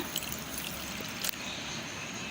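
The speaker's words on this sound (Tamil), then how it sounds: "ஒரு பவுலில் நம்ம ஒரு டீஸ்பூன் சப்ஜா சீட்ஸ் சேர்த்துக்கலாம் கொஞ்சமாக தண்ணி விட்டுக்கோங்க" A small amount of water poured into a bowl holding a teaspoon of sabja seeds, a soft continuous close trickle lasting a couple of seconds with a brief splash near the end.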